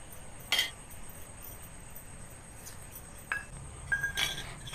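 Small bowls being oiled for semolina idli clink a few times, with bright glassy taps spread out over a faint background hum and no talk.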